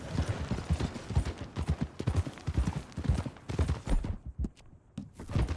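Rhythmic clip-clop of horse hooves trotting at a steady pace in Red Dead Redemption 2, close and fairly loud, with a slightly synthetic game-like quality and no talking.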